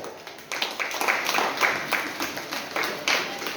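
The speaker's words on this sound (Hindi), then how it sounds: "इसलिए अभिभावकों के लिए आप सबकी जोरदार तालियां होनी चाहिए" An audience at a school science exhibition at Shivam English School claps for the parents. The applause comes in uneven bursts and swells under a noisy hall ambience.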